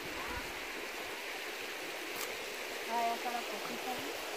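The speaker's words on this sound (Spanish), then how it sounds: "Pues este es el río del cual nos habló Don Manuel" Steady, soft rush of a river spilling into a pool, a constant broadband wash of moving water heard from nearby at low volume, with faint voices briefly rising near the end.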